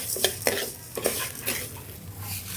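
Chicken pickle masala powder is dry-roasted in a pan and stirred, giving a few soft scraping and clinking strokes over a faint sizzle, close and with no voices.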